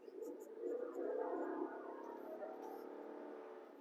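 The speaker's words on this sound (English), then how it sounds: "Engine feels very strong." A 2023 GMC Canyon Elevation pickup's engine pulls steadily on an open road, a continuous low drone that swells early and then holds at a moderate level, heard from inside the cab.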